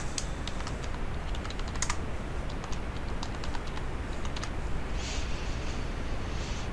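Keys on a computer keyboard tapped at a quiet, uneven pace while entering a figure caption in Microsoft Word, with clustered clicks and short pauses, close and without talking.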